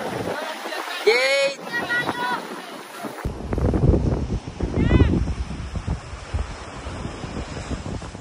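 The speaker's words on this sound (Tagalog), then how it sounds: "lakas ng hangin solid" Strong wind roars and buffets the microphone over rushing water and big waves on Fortune Island, with voices calling out intermittently through the gusts.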